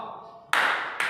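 A classroom clapping routine: after a faint voice, two sharp hand claps land about half a second apart, loud and close.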